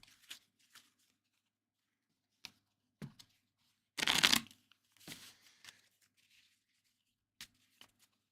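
Playing cards dealt one at a time onto a table during a tabletop 1983 college basketball replay game, giving scattered soft slaps and flicks with one louder rustling burst in the middle, close and quiet, without talk.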